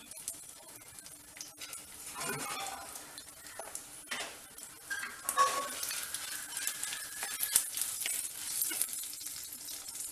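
Red chillies and asafoetida fry in a pan for chutney, giving a soft sizzle with intermittent close stirring scrapes and light utensil clinks throughout.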